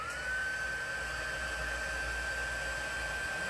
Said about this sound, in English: you might want to cover your ears for a minute while I heat up the emboss gun